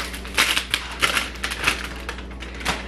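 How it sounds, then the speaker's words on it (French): Bubble wrap from a package is handled and squeezed, giving a series of close, crinkly crackling bursts and small pops in an irregular rhythm, with no talking. "et du papier bulle. Toujours pratique du papier bulle."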